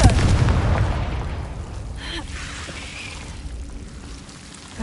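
Confringo fire spell in Hogwarts Legacy bursts with a loud, deep boom at the start that rumbles and fades over several seconds, with faint higher crackles drifting after.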